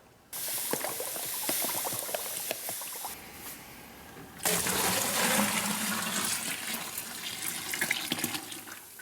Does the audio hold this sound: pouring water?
yes